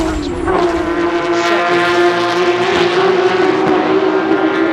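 Porsche Carrera Cup race cars at speed around Watkins Glen International, a loud sustained engine drone with steady tonal whine, rising slightly as the cars pass, with race commentary over the top.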